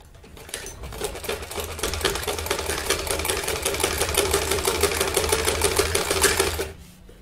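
A sewing machine stitches a boy's kameez in a fast, steady run of close rapid needle clatter lasting several seconds, nearby and loud with no talk, starting and stopping abruptly.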